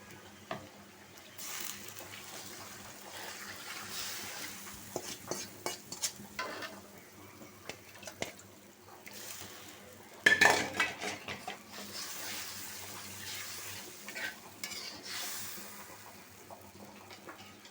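A ginger, garlic, cumin, turmeric, chili and coriander paste with a little water is stirred and fried in a pan, with scraping spoon strokes, soft sizzling and a few sharp clinks of metal against the pot, no talking.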